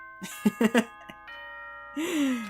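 Announcement chime from the video game Danganronpa 2: Goodbye Despair, a short melodic ding-dong with a few bright stacked tones, first several quick notes and then a sustained swelling tone. It plays clearly and alone, with no talk over it.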